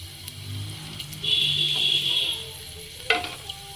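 Cinnamon, cloves and crushed cardamom dropped into hot oil for a chana dal, crackling and sizzling in short bursts with a brief higher hiss, close and moderately loud, no voices.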